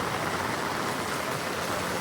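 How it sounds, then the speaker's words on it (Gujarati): Heavy outdoor rain pours steadily, a dense, continuous hiss close by and fairly loud, with no breaks or voices. "ચારે બાજુ વરસાદ જબરજસ્ત ફૂલ વરસાદ ચાલુ છે"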